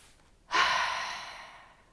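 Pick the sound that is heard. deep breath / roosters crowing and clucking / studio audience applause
deep breath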